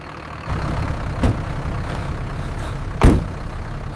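Trucks pulled over at a roadside stop rumble low at idle, the engine drone kicking in early and then holding steady, broken by two short hissing bursts like air brakes releasing.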